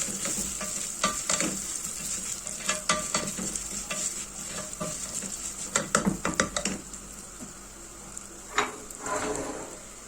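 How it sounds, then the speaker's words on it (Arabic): Vermicelli browning in a hot pan for koshari is stirred again and again, with busy scraping and tapping of the spoon over a constant frying sizzle, close up and without speech. "نفضل نقلب فيها لغايه لما تحمر"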